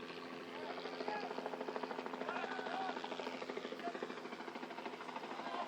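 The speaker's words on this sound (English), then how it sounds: "here comes our chopper hovering overhead again" A helicopter hovers overhead at a college soccer match, its rotor producing a steady, rapid chopping thrum, faint and sustained throughout, with a voice faintly audible underneath.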